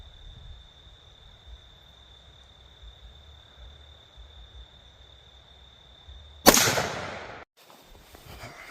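A firearm fitted with a Fire Field Impulse red dot sight fires a single sharp, loud shot outdoors at a target, followed by a brief echoing decay, against a quiet background with steady insect chirping.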